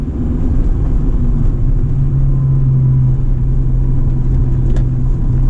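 An Acura NSX engine drones steadily from inside the car during a spirited drive on rough New Jersey and Pennsylvania roads, a continuous low rumble with a slight rise in pitch partway through and no voices.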